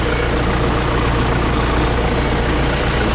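A John Deere 6400 tractor engine idles under a heavy alternator load with a steady, loud, unbroken drone and no voices.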